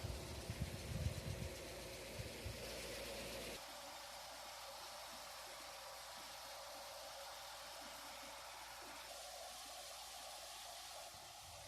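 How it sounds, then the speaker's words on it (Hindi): A 2004 Massey Ferguson MF 260 Turbo tractor engine runs a wheat thresher in a field, a steady droning roar with louder irregular thumps and rattles early on, then settling into an even, continuous machine hum. "ये टर्बो 260 ट्रैक्टर है, बहुत ही ज़्यादा 2004 मॉडल है दोस्तों।"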